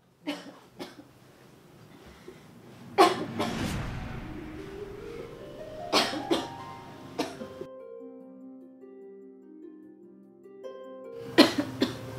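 A person coughs in a home, sharp bursts clustered early then again near the end, with a quieter stretch of soft tonal background sound between them.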